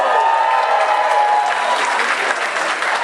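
Audience applause fills a hall at a talk on Lebanese roots, steady and loud throughout with crowd noise and no break.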